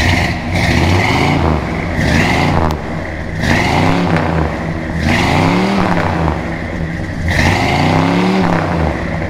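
A 1969 Hurst Olds V8 muscle car engine revs hard several times in a row, each rumbling roar rising and falling, loud and close.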